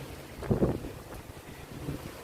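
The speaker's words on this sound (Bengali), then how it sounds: "দেখেন কি বাতাস, আমি আমার টুপি উড়ে যাওয়ার অবস্থা।" Strong cyclone wind over the Bay of Bengal coast, gusting against the microphone in a low rumbling buffet with a stronger blast near the start, then steadier roar, no speech.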